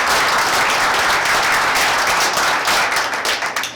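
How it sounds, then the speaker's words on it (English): An audience at a tech evening event breaks into dense, steady clapping that fills the room, tapering slightly toward the end. "round of applause for Will."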